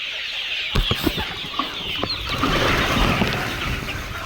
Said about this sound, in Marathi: तर तुम्ही पाहू शकता कशा प्रकारे या कोंबड्या पालक खातात